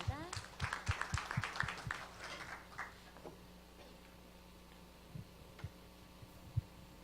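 Forum audience at a startup pitch event applauding to welcome the next presenter, a few seconds of distinct claps that thin out into isolated claps amid room noise.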